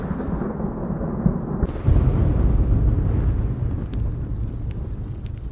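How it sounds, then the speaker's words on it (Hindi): Low thunder rolls on in an animated adventure set near a cave before rain, a deep continuous rumble that swells abruptly near the two-second mark and then slowly eases, loud and without any voices. "बादल गरज रहे थे, बारिश भी होने वाली थी।"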